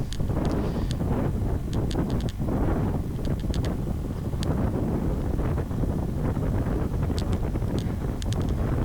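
Headwind roaring across a bike-mounted microphone while riding a cycling race course, a steady dense rumble that holds for the whole stretch, with faint tyre and rattling ticks beneath it.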